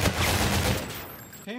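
Rapid video game gunfire rattles in a loud burst that fades out over about a second, followed by a brief voice at the end.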